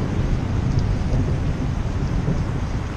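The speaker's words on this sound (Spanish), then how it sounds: "Espero que se oigan los truenos." Thunder rumbles through steady heavy rain on a rainy night in the streets of San Salvador, a continuous dense low roar with rainfall hiss and no voices.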